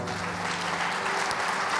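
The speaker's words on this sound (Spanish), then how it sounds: "Un fuerte aplauso al Señor." Church congregation applauding during a worship service, a brief, even burst of many hands clapping together at moderate loudness.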